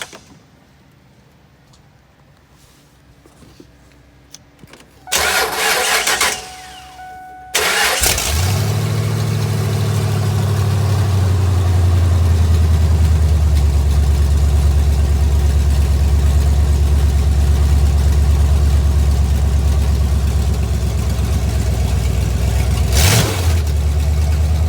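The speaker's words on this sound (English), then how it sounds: "You guys can hear what this thing sounds like with open headers." A 1997 Ford F250 with a 7.5L V8 and Banks open headers cranks, fires up loud after a brief false start and settles into a rough, steady idle close by, with a short rev near the end.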